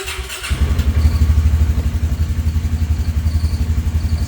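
A Polaris 570 EFI engine that won't idle cranks briefly and catches, then runs at a steady, rough, pulsing idle with a throbbing low rumble, loud and close.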